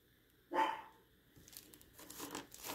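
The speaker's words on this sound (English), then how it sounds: "You gotta excuse it, those are my dogs barking" A single faint bark sounds in the distance, followed by quiet crinkling and rustling noises nearby.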